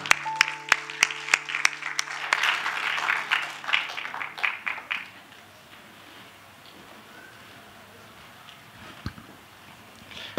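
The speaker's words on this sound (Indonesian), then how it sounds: "Mari kita sambut dengan tepuk tangan yang meriah Pendeta Samuel Sianto" A church congregation breaks into loud clapping after a pastor is welcomed to the pulpit, dense applause for about five seconds that then dies away to quiet room tone with a few scattered claps.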